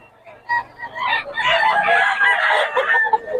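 Several roosters crow in overlapping calls at a chicken seller's, loud and close, filling most of the stretch with hens clucking faintly underneath.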